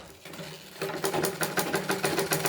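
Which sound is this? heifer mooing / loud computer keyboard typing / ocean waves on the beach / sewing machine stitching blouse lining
sewing machine stitching blouse lining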